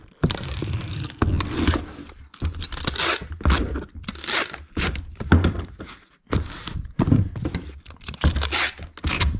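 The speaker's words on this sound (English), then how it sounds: "And then I will get fragile stickers for him." Fragile stickers being peeled and pressed onto a shipping box: repeated close tearing, crinkling and thumping bursts in quick succession with short pauses between them.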